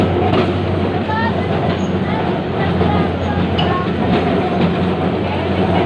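A Kolkata tram rattles along its rails near College Street, a loud, steady rumble and clatter throughout with brief faint wheel squeals.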